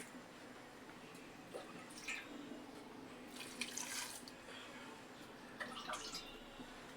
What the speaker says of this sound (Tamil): தண்ணி எடுத்து கொஞ்சம் ஊற்றிக்கலாம்.